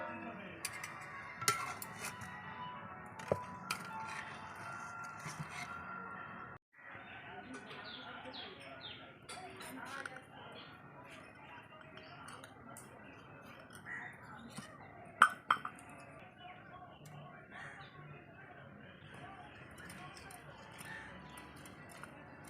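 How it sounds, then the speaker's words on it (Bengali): A metal spoon scrapes and clinks inside a cut green coconut while scooping out cooked prawns for Bengali-style daab chingri, giving scattered light clinks with birdsong in the background. "ডাবের মুখটা আমার ছোট করে কাটা, তো ওই জন্য আমি চামচ দিয়ে বার করতে হচ্ছে"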